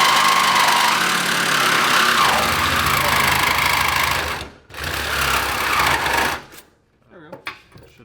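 A power tool grinds steadily through a metal spindle on a 25HP yard kart, loud and continuous for several seconds before cutting out, followed by a brief burst and scattered quieter noises.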